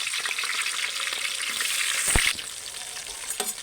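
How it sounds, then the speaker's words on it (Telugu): Chopped green chillies fry in a pan with a loud, steady, close sizzle, then a brief scrape of stirring before the frying settles slightly quieter. No one speaks. "పచ్చిమిర్చి ఇలా వేగిపోవాలండి ఇలా మంచిగా ఫ్రై అయిన తర్వాత"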